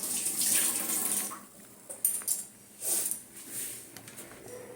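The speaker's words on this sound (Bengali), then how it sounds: "চলো দাঁড়াও, হাতটা ধুই।" A kitchen tap runs as hands are washed, water splashing in a sink for a few seconds, then it stops and starts again in short gushes, close and moderately loud.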